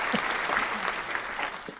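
Applause from an audience at a live podcast-style talk event, a steady wash of clapping hands lasting a couple of seconds at moderate volume with a faint voice briefly underneath.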